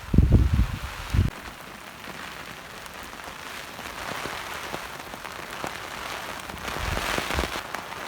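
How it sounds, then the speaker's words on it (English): Rain pattering steadily on surfaces at a Cedar Mountain campsite, a soft constant wash of drops heard close by, with a few low thumps at the start and a swell of heavier rain near the end. "Well, we got us a rain coming down here."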